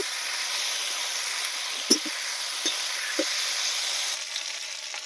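Okra and onion frying in a pan, a steady close sizzle throughout with a few soft stirring clicks and scrapes at scattered moments.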